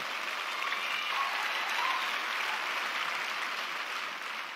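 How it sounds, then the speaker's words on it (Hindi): An audience at a Safe Shop business event applauds the team seated in the hall, a dense, even roar of many hands clapping that holds steady for a few seconds before easing slightly. "उनके लिए एक बार बहुत जोर और तालियां होनी चाहिए, जोरदार"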